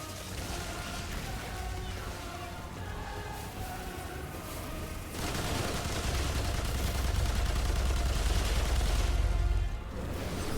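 Rapid gunfire from the video game Remnant 2, a dense continuous stream of shots that swells louder and heavier in the second half, with no talking over it.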